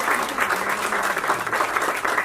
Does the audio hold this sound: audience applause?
yes